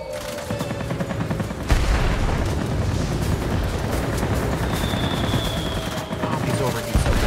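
Aircraft guns in World of Warplanes fire in a long, loud sustained burst over droning engine noise, with a sharp boom partway through and a player's voice underneath.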